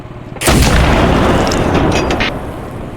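A tank cannon fires in a video game: a single loud, sharp boom that bursts in suddenly and then decays into a rolling rumble over a few seconds.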